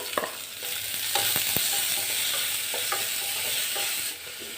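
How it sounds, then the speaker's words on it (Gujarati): Chilies, garlic and ginger sizzle steadily in hot oil, with a spoon scraping and knocking the pan in irregular stirring strokes, close and fairly loud throughout. "તેલ ગરમ થાય પછી આપણે મરચાં લસણ અને આદું એડ કરી દઈશું હલાવી લેશું સરસ રીતે સાંતળી લેવાનું છે"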